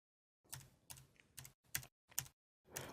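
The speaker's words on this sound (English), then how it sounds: "hit your up and down arrow keys on your keyboard" Six separate computer keyboard key presses, the arrow keys tapped one at a time in a loose rhythm, close and clear with brief silences between strokes.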